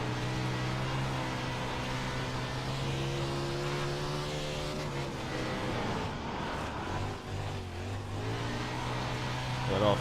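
A 360 non-wing sprint car engine in the iRacing sim drones loudly and steadily throughout, its pitch rising and falling as the throttle is worked through the corners.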